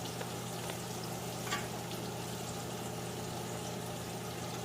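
Green tomato slices frying in hot oil, a steady close sizzle and crackle running throughout with a faint low hum underneath, no voices.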